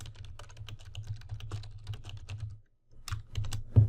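Rapid typing on a computer keyboard while text is entered into a form field, steady clattering keystrokes that pause briefly near the end before resuming with a few louder taps.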